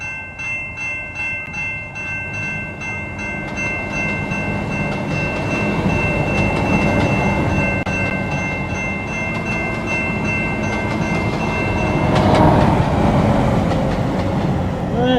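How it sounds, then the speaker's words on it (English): Metro train on the Red Line in the Trainz simulator pulling out of a station, a steady rumbling drone with sustained tonal hum and a brief swell near the end, continuous and fairly loud. "I will leave you with a train about to leave out of the station here."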